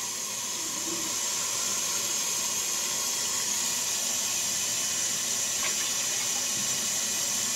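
Cold water poured into the pot of a Crockpot Express for ham and beans, a steady hissing, splashing pour heard close up and continuously throughout, with no speech.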